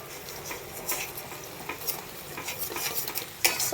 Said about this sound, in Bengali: এবার সুন্দর করে কষাতে হবে।